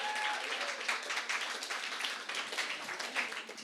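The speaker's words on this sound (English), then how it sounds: "we'd love to give them a round of applause just to welcome them" An audience at a Q&A session gives the Sisters of Life a welcoming round of applause, a steady wash of many hands clapping at moderate distance, holding even throughout with no talking over it.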